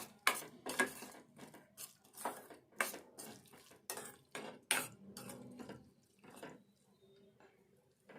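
A spoon stirs egg curry in a pan, giving a series of close, irregular metallic clinks and scrapes that come in bursts and fade out toward the end.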